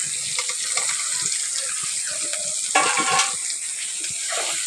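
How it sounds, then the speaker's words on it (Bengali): Fried potatoes are stirred into a sizzling spice mix with green chillies in a pan, giving soft frying hiss with scraping and stirring clatter, close and steady, with no talking. "এবার এর মধ্যে দিয়ে দিচ্ছি ভেজে রাখা আলু"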